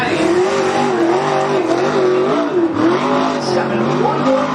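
Modified race car engine roaring steadily on the Cottage Grove Speedway oval, a loud, continuous revving drone with shifting pitch as the car circles, over a busy crowd-and-track background.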